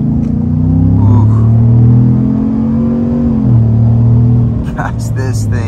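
A 2024 Chevy Silverado 1500 High Country pickup accelerates on the road, its engine rumbling and rising steadily in pitch from inside the cab, loud and continuous, with a brief sharper noise near the end.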